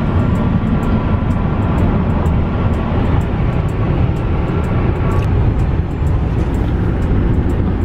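A big truck rolls past on a road, a steady loud rumble of engine and tire noise with wind that holds through the whole stretch, and no talk.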